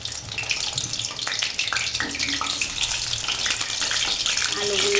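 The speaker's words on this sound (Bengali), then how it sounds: "আলুগুলো একটু লাল লাল করে ভেজে নেব।" Potato pieces frying in hot oil for a chicken curry, a steady close sizzle with bubbling crackle and occasional stirring scrapes, loud and continuous for several seconds.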